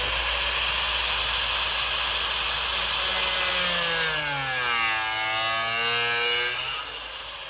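A power saw cuts into a racecar bumper with a loud, continuous hissing whine, its pitch sliding and bending as the blade works through the material.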